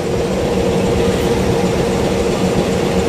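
A train sits or rolls at Gambir station, giving a steady, dense low rumble of heavy engine and wheels that holds constant and fairly loud throughout.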